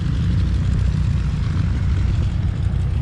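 A propeller airplane fitted with a three-blade MT propeller gives off a steady, close droning rumble that holds level without a break, with no voices over it.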